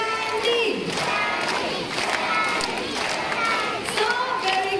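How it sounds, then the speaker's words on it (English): A crowd at a bird show in Jurong Bird Park, Singapore, claps and cheers together, with rhythmic handclaps and shouted chanting rising and falling in bursts, a loud, lively mass of voices and hands close by. "clap your hands and shout for Stanley's name"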